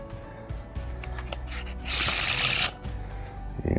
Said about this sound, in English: let's try a riffle shuffle.